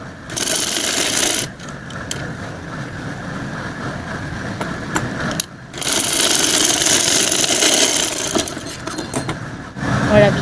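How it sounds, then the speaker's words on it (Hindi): A sewing machine stitching a kurti runs in bursts of rapid whirring, stopping briefly twice before starting again, close and fairly loud with no talk over it. "अब सिलाई को हम फुल कंप्लीट कर लेते हैं"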